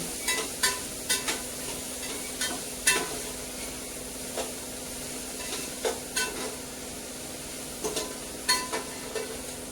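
Onions frying in a pan for chicken biryani in a home kitchen, giving a steady soft sizzle broken by repeated sharp scrapes and knocks of a spoon stirring against the pan, with no talking.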